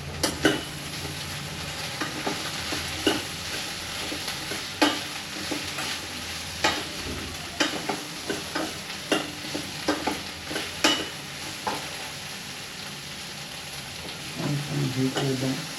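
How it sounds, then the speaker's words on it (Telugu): Okra frying in a pan on the stove gives a steady close sizzle, broken by repeated scraping and clattering stirs throughout, with no talking. "ఇన్ని బెండకాయలు ఉన్నాయి కదా, అవి ఫ్రై అయితే గిన్నె అవుతాయి"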